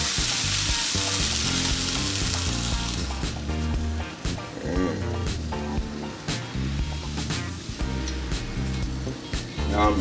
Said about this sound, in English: now we're gonna add in the egg.